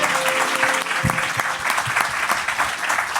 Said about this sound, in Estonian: teeme suure aplausi veel meie külalistele